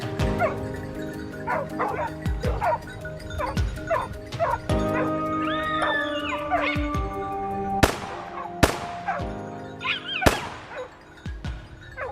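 Hunting dogs bark, yip and whimper in rapid, overlapping bursts during a wild boar hunt, loud and close. Several sharp cracks punctuate the barking near the end.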